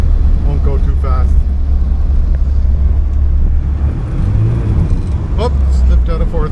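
A 1979 Porsche 924 driving slowly on a road, heard from inside as a loud, steady low engine rumble with road noise, and a voice briefly audible over it.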